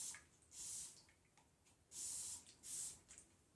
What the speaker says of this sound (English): I'm going to spray with alcohol to make sure there's no bubbles